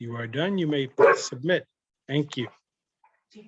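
A pet dog barks in a short, sharp burst at a moment between a person's spoken phrases. The bark is brief and sits among the talking.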